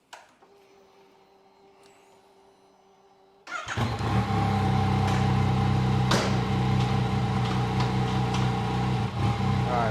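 Quiet at first, then a Yamaha MT-09 (FZ-09) motorcycle engine roars to life and holds high revs around 5,000 RPM in sixth gear, with brief sharp quickshifter cuts and pops breaking the steady drone.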